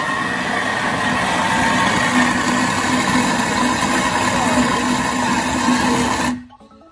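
A Thermomix whips a peanut butter gelato base with a steady, loud motor whir and churning hum that holds evenly for about six seconds, then cuts off abruptly into near silence.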